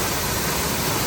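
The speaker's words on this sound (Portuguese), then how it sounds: "A água vem rompendo a rocha, ó, fez o rasgo da rocha." Water rushes down through a rock gorge at the Cachoeira da Raizinha waterfall, a steady, dense, loud roar with no breaks over a brief moment.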